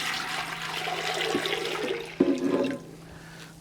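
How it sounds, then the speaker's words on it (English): Broth poured into a stock pot for soup, a steady liquid splash with a brief surge of heavier pouring near the end, close and fairly loud, with no talking. "in our first pot, our stock pot, we will start with our broth from episode 3."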